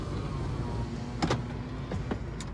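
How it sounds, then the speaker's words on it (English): Power windows rolling down on a Toyota 4Runner, a few short whirring motor bursts over a steady idling engine hum inside the vehicle. "Let's roll down the windows because it's a beautiful day."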